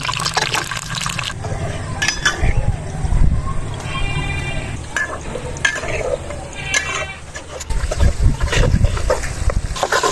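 Chopped onions hit hot ghee in a pot over the flame while a bean curry is being made, giving a busy, uneven sizzle with stirring clatter and bursts of louder frying throughout.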